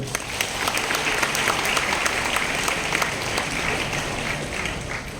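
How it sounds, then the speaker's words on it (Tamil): Audience applause at a public event in Tamil Nadu, with women in the crowd clapping: a dense, steady wash of many hands, loud and close, sustained evenly for the whole span with no speech over it. "இங்கு இருக்கிற பெண்கள் எல்லாம் அதற்காக கைத்தட்ட வேண்டும்"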